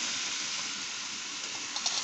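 Red amaranth greens dropped into hot oil with browned garlic, giving a steady, loud, close sizzle that hisses continuously with a few small pops.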